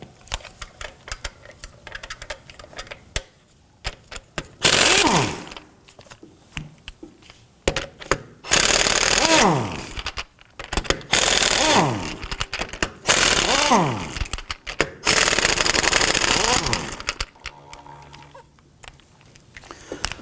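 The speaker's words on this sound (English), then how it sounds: "Using a thin wall 19mm socket, we're going to go ahead and loosen and remove our lug nuts here" Lug nuts are loosened and spun off a 2005-2009 Subaru Legacy rear wheel with an air impact wrench and a thin-wall 19mm socket, giving several loud bursts of rattling hammering separated by short pauses.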